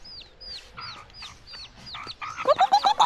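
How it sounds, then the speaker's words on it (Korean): Repeated high, thin chick peeps in quick succession, growing denser and louder toward the end, close by with no talking. "병아리 소리 나."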